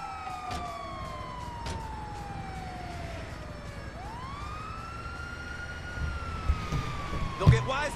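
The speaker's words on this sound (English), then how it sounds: "It's the ambulance." An ambulance siren in Grand Theft Auto V wails steadily in a falling and rising sweep, moderately loud and close, with some vehicle and background game noise toward the end.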